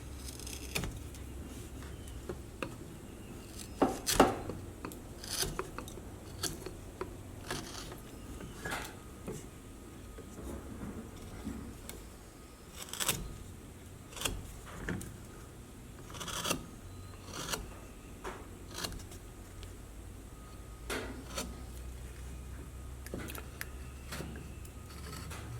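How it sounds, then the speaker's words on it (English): Scissors or a blade cutting along the mustache line of a Cowboy Santa figure, a steady run of soft rasping snips and rubs with sharper clicks scattered through, close and fairly quiet, with no talk. "I'm going to cut in where I see the mustache going"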